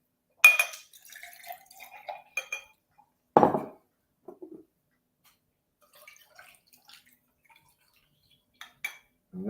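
Iced tea is poured over ice into glasses: scattered clinks of ice and glass, a short splashing pour in the middle, then more faint taps and rattles with long quiet gaps.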